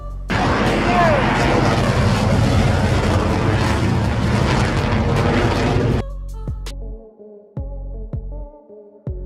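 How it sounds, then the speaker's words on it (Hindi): Fighter jet roaring in a low pass just over people on a beach, a loud broad blast lasting about six seconds before cutting to quieter sound with sharp clicks. "फाइटर जेट बीच पर मौजूद लोगों के सरों के बिल्कुल करीब से गुजरता है और सब कुछ उड़ा कर रख देता है।"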